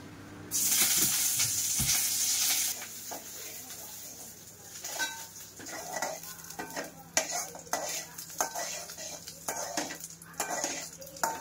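Curry leaves hit hot oil in a pan with a loud burst of sizzling, then a spoon stirs and scrapes against the metal in irregular clinks and scrapes over a quieter frying hiss, close by with no talk.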